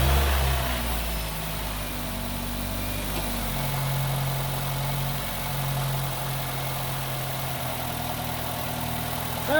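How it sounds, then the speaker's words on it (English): A 2010 Nissan Rogue engine runs at a steady, low idle with a constant mid-low hum and faint vibration throughout, with no voices. "Let's go ahead now and start the vehicle."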